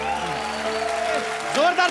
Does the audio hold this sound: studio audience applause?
yes